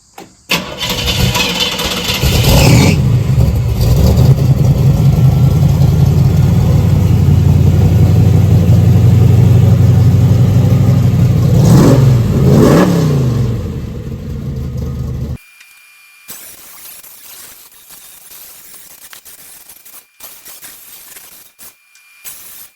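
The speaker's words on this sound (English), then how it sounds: "Larry brought his Corvette." A Chevrolet Corvette engine cranks and fires up close and loud, settling into a rumbling idle with a couple of revving swells, then cuts off abruptly into near silence.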